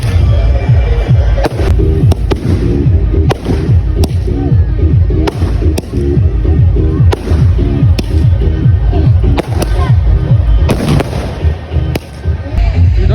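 Dense strings of firecrackers burst continuously at a village temple fair, a loud crackling roar with sharp bangs throughout, with voices faintly mixed in.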